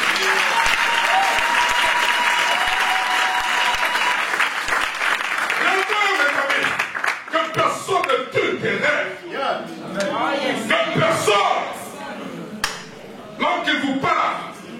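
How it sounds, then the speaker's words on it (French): A church congregation breaks into loud applause to cheer the Lord, dense clapping at first that thins into scattered claps and voices as a preacher speaks over it. "Est-ce que nous pouvons acclamer le Seigneur?"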